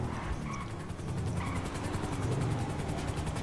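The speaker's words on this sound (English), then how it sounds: "Corey, stay in your helicopter." A helicopter in the video game GTA thrums with a steady rapid rotor chop and a low engine drone, moderately loud and continuous, with faint game sounds layered underneath.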